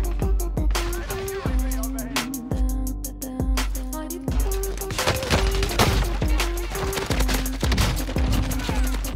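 Grawl 556 firing in a video game, with repeated sharp shots in short rapid bursts, loud and close over a steady musical backing.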